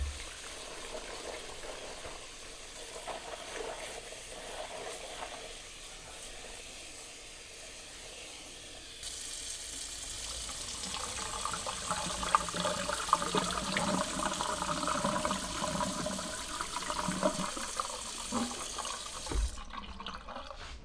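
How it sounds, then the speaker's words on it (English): Cranberries are drained and rinsed under running water in a home kitchen, giving a quiet rushing flow that grows louder and steadier midway, with splashing and clatter, then cuts off near the end. "I'm going to drain my cranberries. Rinse them one more time."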